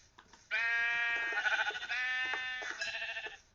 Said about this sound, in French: Oh, des moutons, yes.